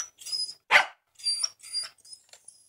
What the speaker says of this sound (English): Barney, stop barking.